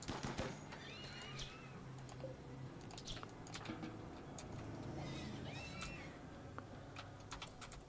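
Horses neighing in the video game Rimworld, two short whinnies rising above a low steady game hum, with scattered clicks throughout.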